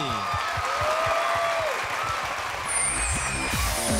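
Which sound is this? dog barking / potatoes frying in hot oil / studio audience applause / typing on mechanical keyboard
studio audience applause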